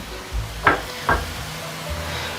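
Two quick scraping stirs in a frying pan of cabbage with sugar and salt, close up, over a soft background sizzle, with no talking.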